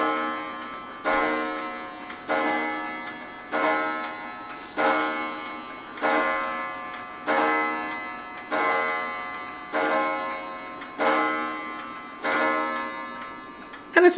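Craig's Christmas Eve clock ticks steadily at about one beat every 1.3 seconds, each tick a bright metallic strike with a short ringing decay, close and clear with no talking.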